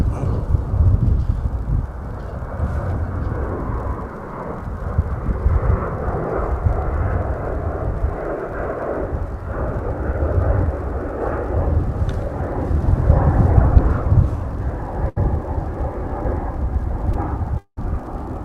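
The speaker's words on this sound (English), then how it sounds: "Looking for that United plane." A United airliner at DFW Airport, heard from a distance as a steady, broad jet engine roar that holds throughout without talk.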